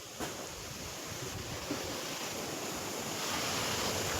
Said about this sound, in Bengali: এখন ঠান্ডা বাতাস চলেছে, চারিদিকে হাওয়া হচ্ছে, শুনতেই পাচ্ছ হয়তো